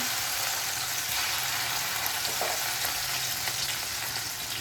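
Chilli and ginger paste fries in a pan with a steady, dense sizzle that holds evenly at close range throughout, with no voices over it.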